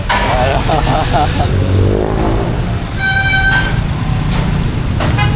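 Busy street traffic with many vehicles close by: engines rumble continuously while several short horn toots sound, one a clear sustained honk, and people talk over the noise.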